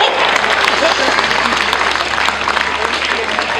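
A crowd at a car show claps and cheers loudly in a continuous wash of applause, dense and close, with voices mixed in.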